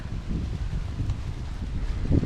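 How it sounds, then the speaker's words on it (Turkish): Steady outdoor wind buffeting the microphone, a low rumbling roar that swells slightly toward the end, with no voices. "Bugün çok rüzgar var arkadaşlar."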